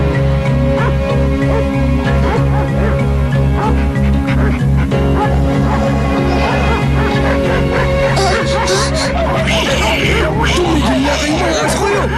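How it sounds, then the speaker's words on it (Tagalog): Several dogs bark repeatedly in a rhythmic, busy scene, fairly loud and close, mixed with background babble and a steady low drone; voices chatter over the barking. "Tumigil na kayo mga aso kayo!"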